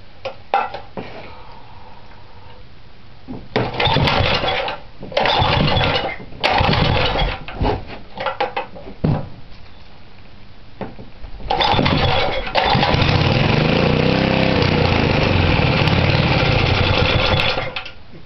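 A small engine on a Rupp digger running at half choke, sputtering in uneven loud bursts that catch and drop off, then settling into a longer steady run toward the end.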